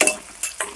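Onion, ginger, garlic and chilli frying together in a pan, a soft sizzle punctuated by two or three quick scraping stirs, close and brief, with no speech.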